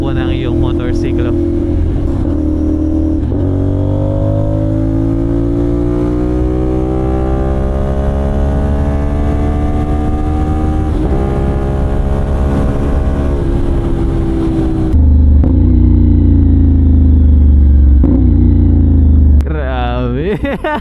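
CFMoto 450NK motorcycle with a 270-degree crank engine, heard close while riding: loud throbbing exhaust climbing through rising revs, shifting gears, then a louder sustained roar with wind, and a voice talking over it.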